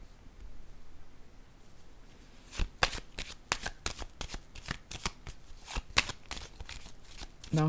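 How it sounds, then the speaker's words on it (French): Tarot cards shuffled and laid down on a table, a close, crisp run of quick riffling and slapping card sounds with no talk. "Je vais déposer une autre carte ici."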